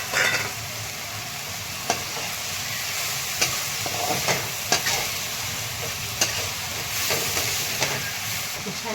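Spring onion greens with crushed roasted peanuts, cooked in oil and salt the traditional village way, sizzle and hiss steadily in the pan, with repeated scraping stirs throughout.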